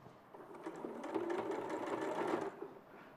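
A sewing machine stitches steadily for a few seconds on a sewing demonstration, its motor hum and needle chatter running evenly at moderate level before easing off near the end, with no talk over it.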